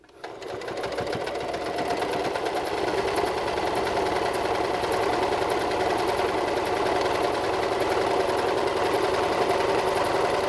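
A sewing machine runs a steady zigzag stitch along a beanie seam, a continuous close mechanical whir that holds at an even level for about ten seconds with no voices.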